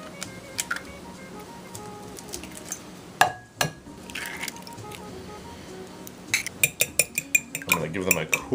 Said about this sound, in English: I'm going to give them a quick whisk just so that they're evenly incorporated into the rest of my mixture